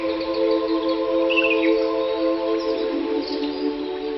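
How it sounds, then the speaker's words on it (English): Small birds chirp and tweet at a sanctuary for rescued birds, a large free-flying aviary, with brief high calls rising over a steady background hum. "I then went with Anna to Birds of Eden, the largest free-flying avian facility in the world for rescued birds."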